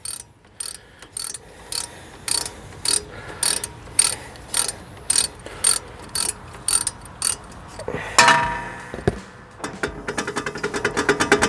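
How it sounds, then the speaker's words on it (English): A 3/8 drive ratchet wrench loosens a rear wheel bearing bolt on a 2014 Subaru Outback, with a long series of sharp, evenly spaced clicking bursts close up, speeding into a quicker rattle at the end. "I'm able to get it with a 3/8 drive wrench"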